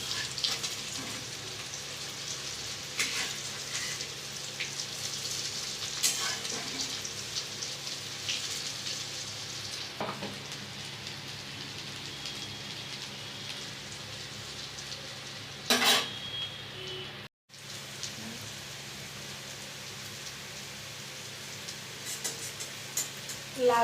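Shrimp fritters sizzle in hot oil, a steady crackling hiss running throughout with a few louder pops and spatters near the end and one brief dropout.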